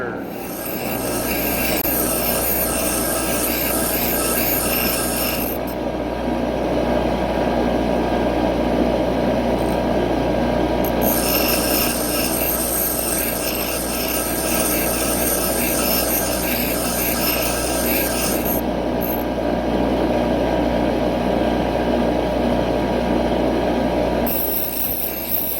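Bench grinder scrubbing rust off an old spade bit, a steady loud rasping, rubbing grind that runs almost continuously with a few short breaks, no talk.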